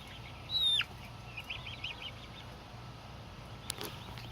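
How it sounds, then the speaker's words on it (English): Bantam chickens on a homestead give a quick squawk, then a run of soft, faint clucks against a steady outdoor background hum. "these are like bantam birds"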